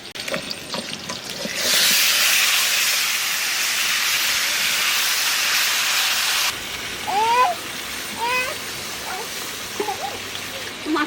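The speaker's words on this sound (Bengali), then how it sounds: "এইবার মাছ দিয়ে দেবো" Hilsa fish pieces go into hot oil seasoned with black cumin and green chillies, setting off a loud, steady hissing sizzle that lasts several seconds before cutting back to a quieter background with faint, brief tonal sounds.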